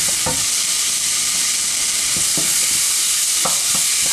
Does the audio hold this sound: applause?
no